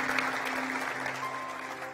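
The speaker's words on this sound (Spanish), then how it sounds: "Dale un aplauso al Rey bendito." Congregation applauding during a church service, a steady wash of clapping held at moderate level for about two seconds, with a sustained tone running beneath it.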